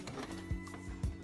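A sewing machine back stitches fabric for a reversible picture book bag: a steady motor whir broken by two short, regular low thumps, close and fairly quiet.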